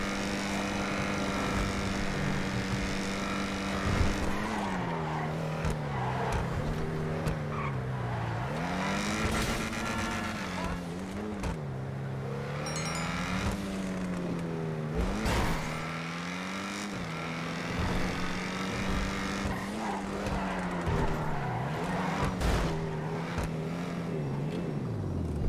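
A car engine roars throughout a drive in GTA 5 Online, rising and falling steadily as the car accelerates and shifts, loud and continuous with occasional tyre noise.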